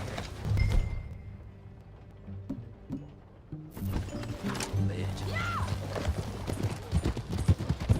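Horse hooves clip-clop in a steady rhythm in the video game Red Dead Redemption 2, building into a quicker gallop, with a voice speaking briefly over the hoofbeats.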